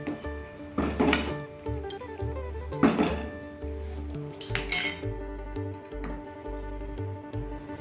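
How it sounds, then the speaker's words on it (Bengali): Soybeans are mixed into boiled vegetables in a pan, with intermittent metallic clinks and scrapes of a spoon against the cookware over a quiet background. "এবার আমি সয়াবিনগুলো দিয়ে দিলাম, সব একসঙ্গে মিশিয়ে দিলাম।"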